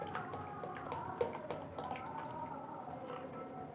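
Rice flour batter for chitoi pitha being mixed with hot water, with soft, wet squishing and dripping sounds that repeat steadily at close range and stay fairly quiet throughout.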